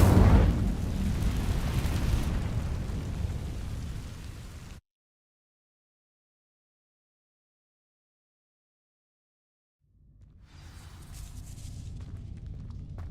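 Incendio fire spell in a Hogwarts video game bursts with a loud roaring blast that fades out, drops to total silence, then a second fiery whoosh swells back in.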